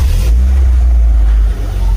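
A car engine runs loudly and close during a coolant bleeding job, a heavy steady low rumble with a brief surge at the start and no talk over it.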